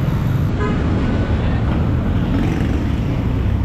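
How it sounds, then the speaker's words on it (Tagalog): Continuous road traffic noise in dense Manila-area traffic, a steady low rumble of engines with a brief faint horn-like tone near the start, heard from within or beside the jam with no speech. "Grabe, traffic."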